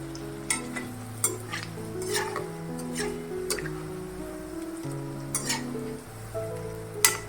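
Green moong dal pakoda fry in hot oil over a low-medium flame, a steady close sizzle with bubbling, punctuated by sharp scrapes and taps of a utensil stirring the pan.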